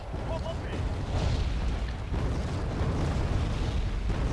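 Artillery fire and explosions in the Wargame AirLand Battle video game, a dense rumbling barrage of low booms under steady background noise.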